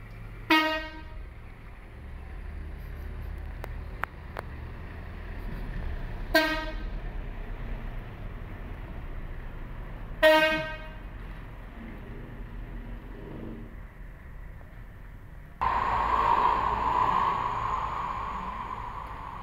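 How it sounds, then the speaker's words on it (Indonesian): Cars passing at night sound their horns in three loud, separate honks spaced several seconds apart, each with a brief tail. A rushing, rumbling vehicle pass follows near the end. "banyak bunyi trompet, klakson trompet, banyak mobil lewat di sini"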